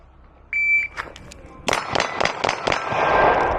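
Several sharp gunshots from a Beretta APX A1 Compact Tactical pistol on a shooting range, fired in a quick uneven string after a short electronic timer beep, loud and close.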